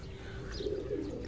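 Pigeons kept under netting coo softly and steadily close by, a low continuous murmur with no speech.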